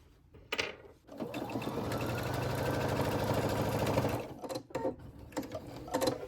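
A sewing machine stitches along the zipper of a keychain wallet pouch, a rapid even mechanical whir lasting about three seconds, close by, with a few soft handling clicks and taps before and after.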